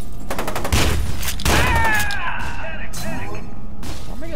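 Rapid bursts of gunfire crackle through a close-quarters firefight in the video game Fear 2, with repeated loud volleys, metallic whines and ringing effects as a player talks over the action.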